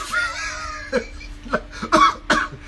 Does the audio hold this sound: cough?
yes